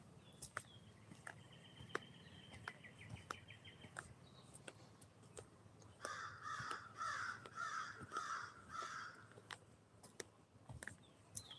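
Crows cawing outdoors on an early morning Wisconsin walk, a burst of five or six harsh caws midway, with fainter bird calls and insect chirping around them.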